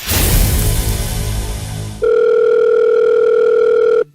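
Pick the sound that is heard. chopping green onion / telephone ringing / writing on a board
telephone ringing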